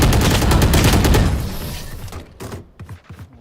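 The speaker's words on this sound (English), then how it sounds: "Grenade!" A grenade blast in a tactical shooter game bursts out loud and dense at the start, then rumbles and decays over about a second and a half, leaving scattered thuds and clicks behind.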